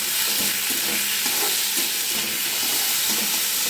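Onion, potato and green chili frying in a pan for chire pulao, a steady close hiss of sizzling oil with soft stirring scrapes running throughout, no voices.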